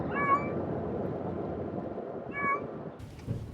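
Two cats meow inside a moving vehicle, one short meow near the start and another about two seconds later, set over a constant low road rumble from the ride.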